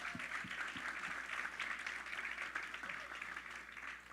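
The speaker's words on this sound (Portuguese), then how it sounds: "Vamos aplaudir os pais nessa noite." Continuous audience applause for the fathers at an evening church gathering, moderately distant and even, with a few low thumps beneath the clapping.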